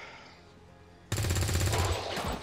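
A burst of automatic gunfire from XCOM 2 erupts suddenly after a quiet stretch, a loud rapid volley of close shots that keeps rumbling for over a second.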